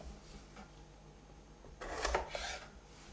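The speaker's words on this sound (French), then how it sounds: "d'abord nous allons commencer avec le poivron. Donc, je le découpe." A knife cuts into a fresh bell pepper on a board, a brief crisp crunching rasp lasting under a second after a quiet lead-in, close and fairly soft.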